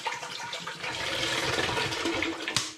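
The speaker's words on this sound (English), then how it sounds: "I'm going to add 2 litres of still spring water into that" Two litres of still spring water pour into a pan for brewing a butterscotch imperial stout, a steady splashing rush that runs continuously, ending with a brief clatter near the close.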